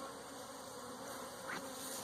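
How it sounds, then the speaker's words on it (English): Honey bees from a newly installed package buzz steadily around a queen cage, a close, continuous drone with a slightly louder swell near the end. "I'll remove these bees"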